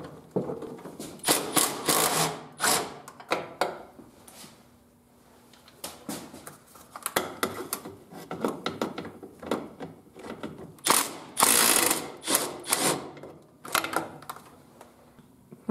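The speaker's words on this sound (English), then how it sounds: "I just kind of would loosen one with the impact and then go around and loosen them all evenly" Pneumatic impact wrench loosening 9/16 brake booster bolts on a Jeep Wrangler YJ, repeated sharp rattling hammering bursts of varying length with short pauses between them, close and loud.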